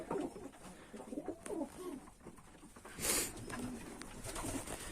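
Soft, low pigeon cooing repeats in short phrases against a faint background, with a brief burst of higher noise midway.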